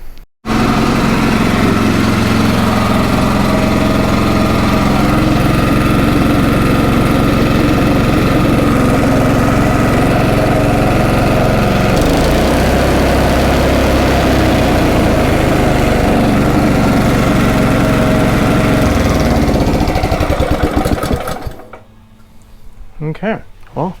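A Honda GX270 small engine with a new carburetor runs at a steady, loud idle close by for about twenty seconds, then sputters and dies down, with speech likely under it.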